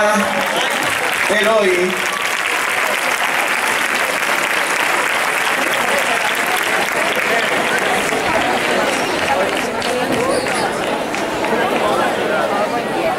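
A graduation ceremony audience applauds in dense, sustained clapping that fills the hall at steady loudness, with a voice speaking over it briefly.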